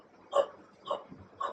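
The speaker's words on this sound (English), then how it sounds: "and she is barking again" A dog gives three short, muffled barks or woofs spaced about half a second apart, fairly close and otherwise in quiet.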